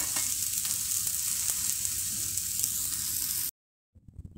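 Idly pindi attu fries until golden in a pan, a steady hissing sizzle with a few soft stirring taps, then cutting off abruptly to near silence with faint handling noise at the end.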